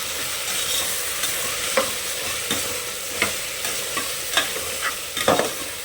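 Masala khichdi is stirred in a pan, a spoon scraping through it in regular strokes over a steady, hissing sizzle, close and alone.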